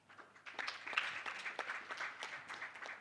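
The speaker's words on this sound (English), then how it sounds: "Let's give him a round of applause." Audience applause greets a speaker at a mental health and addiction conference session. It sounds fairly quiet and roomy, with scattered claps gathering after a moment and holding steady for a few seconds.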